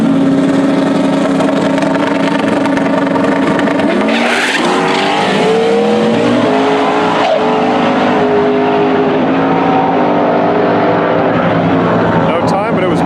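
Foxbody Mustang and a turbocharged 5.3-liter C4 Corvette cart race down a drag strip, loud engines roaring steadily with rising and sweeping pitch and tire squeal, crowd noise beneath throughout.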